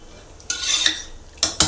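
A ladle clanks against a pot of simmering mango sambar: a scraping metallic rattle, then two sharp, close knocks near the end, with no voices.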